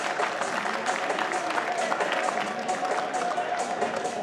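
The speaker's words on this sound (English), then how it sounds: "Crowd on their feet." Crowd at a men's squash championship final applauding on their feet, sustained dense clapping and cheering throughout, with a commentator's voice over it.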